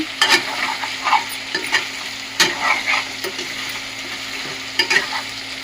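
Chicken curry fries in a pan with a steady low sizzle, while a spoon scrapes and stirs in repeated short strokes every second or so.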